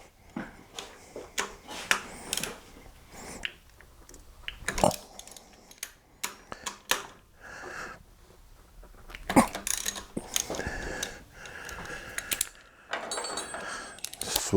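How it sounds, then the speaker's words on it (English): A socket on a small swivel and a wrench work loose 15 mm bolts on an LS4 engine in a Pontiac Grand Prix, giving irregular metallic ratchet clicks and clinks in short bursts at close range. "I use a socket, little swivel, and a wrench, 15 millimeter wrench"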